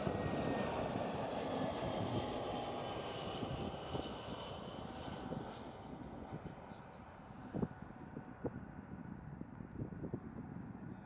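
A passenger airliner painted in a special football club livery at Amsterdam Schiphol roars steadily for the whole stretch, a broad continuous engine wash with faint wind buffeting and a few brief knocks near the end.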